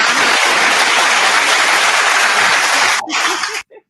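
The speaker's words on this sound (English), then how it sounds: "let me do an official round of applause for all of that goodness" Recorded applause effect played back during a cooking-themed show, a dense steady wash of clapping that holds loud, briefly dips near the end, then cuts off abruptly.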